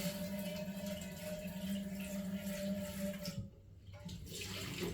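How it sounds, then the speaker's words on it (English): A skillet is rinsed under a running kitchen tap, producing a steady hiss of flowing water that briefly drops out and then resumes, close and moderately quiet. "I need to take this skillet off the fire or rinse it out again."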